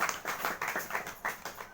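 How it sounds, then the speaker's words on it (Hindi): A few people clap in a small gathering during a prayer meeting, brief uneven bursts of hand claps in a loose rhythm, close and moderately quiet. "बहन प्रभु यीशु मसीह का जोरदार तालियों से धन्यवाद करते हैं।"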